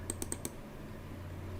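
Four quick keystrokes on a computer keyboard, crisp close clicks in a fast burst, then a quiet steady hum of a room.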